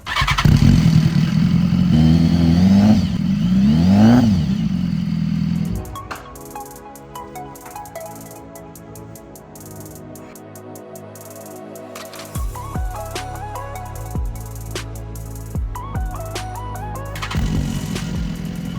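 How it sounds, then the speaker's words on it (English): A flood-damaged BMW S1000RR motorcycle engine roars loudly with rising and falling revs, then drops to a rough idle broken by sharp deceleration pops and clattering, before revving again. "Now we also gave it some revs, and I just love the decel pops on these bikes."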